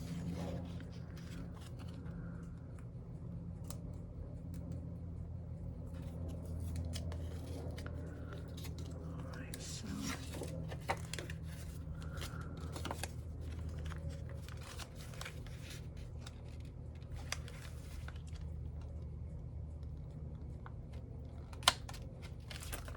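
Paper for a junk journal is trimmed with scissors: a quiet, close run of short crisp snips and rustles, with soft handling noises in between.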